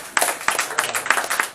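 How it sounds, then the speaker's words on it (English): A small group claps at an information talk about immigration law, a few separate sharp hand claps in an irregular pattern, close and moderately loud with no voices. "Please let's give her a clap."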